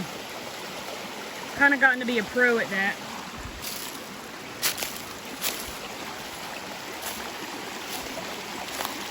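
A creek in western North Carolina flows over rocks with a constant rushing hiss, while a person speaks briefly near the start and a few faint knocks sound later.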